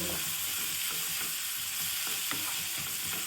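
Tomato sautéing with coriander and sambar powder in a pan, a continuous close sizzle with regular scraping stirs of a spatula throughout.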